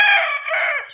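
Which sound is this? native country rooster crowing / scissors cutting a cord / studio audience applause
native country rooster crowing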